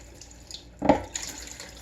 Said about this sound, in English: I did turn the water off. It's just leaking out of the tank.